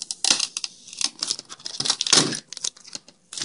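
A sticker being peeled off an Xbox 360 hard drive case, heard as close, irregular crackly tearing and crinkling bursts with short pauses between them, no voices.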